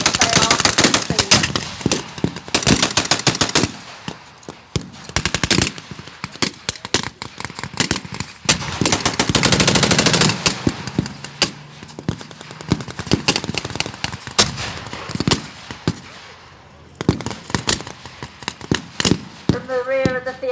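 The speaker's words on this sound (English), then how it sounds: "From the rear of the field, the 25-pounder guns fire their missiles over the heads of the Allied forces" Battlefield gunfire at a WW2 reenactment, with 25-pounder field guns firing from the rear: dense bursts of rapid shots and crackling volleys, some heavy booms, continuous and loud with brief lulls, and faint voices underneath.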